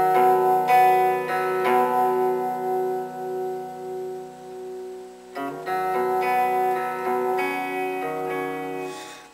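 Electric guitar picks out a verse riff as a lesson demonstration, a repeating arpeggiated pattern of ringing notes played alone, with a short break midway before the figure resumes.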